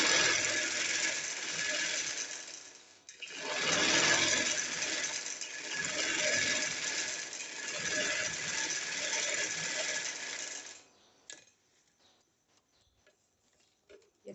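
Sewing machine stitching along the corner of a piped poncha, a fast continuous whirring patter in two long runs with a short pause between, then stopping abruptly with a few faint clicks.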